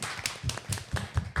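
Quick, evenly spaced hand claps ring out in a short burst of applause at an interview with a parkour teacher, fairly close and fading in and out in rhythm.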